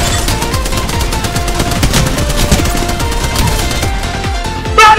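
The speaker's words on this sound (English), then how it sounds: "Machine gun." Rapid bursts of automatic machine gun fire from Apex Legends, dense and loud, with overlapping gunshot cracks rattling steadily throughout and a sharper blast near the end.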